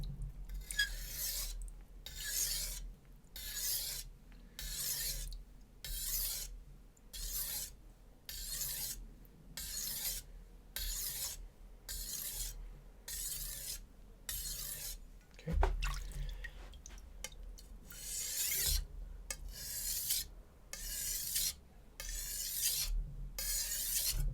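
A Zwilling chef knife is honed on a Japanese whetstone, with long regular rasping strokes repeating back and forth about once a second, close and crisp, briefly interrupted by a knock midway, no speech.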